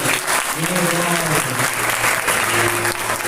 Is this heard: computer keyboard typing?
no